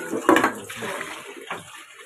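Water gushes from a freshly repaired household tap, a short, fairly loud splashing rush that eases off after a second or so.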